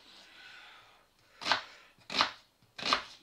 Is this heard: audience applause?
no